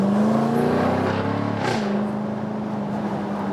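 A Jaguar F-Type V8 P450 cabriolet in dynamic mode drives up a hill with a loud, steady engine drone. The pitch climbs, drops at a gear change, then settles into a steady cruise.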